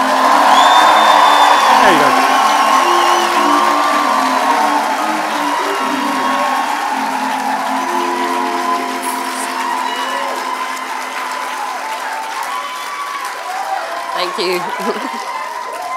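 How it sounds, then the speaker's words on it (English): An audience applauds and cheers for a performer, loud whoops and yells over steady clapping that gradually softens, while someone speaks briefly over the crowd. "big round of applause for Lichelli"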